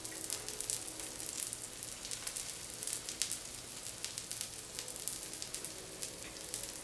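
Veggie burger patties sizzle steadily in a hot pan, a dense, even crackle and hiss that continues without pause, with no one talking.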